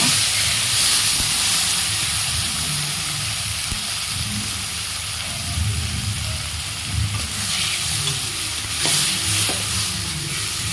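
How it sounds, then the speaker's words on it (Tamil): Onions and tomatoes sauté in oil for coriander chutney, a continuous loud sizzle and hiss with occasional stirring scrapes, close up with no talk. "நல்லா எண்ணெய் பிரிஞ்சு வர வரைக்கும் வணக்கிட்டே இருங்க"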